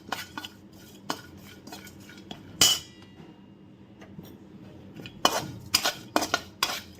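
Dry ginger is stir-roasted in a little oil in a pan for black masala, with sharp metal spatula clinks and scrapes in irregular bursts over a quiet background and barely any sizzle; no speech.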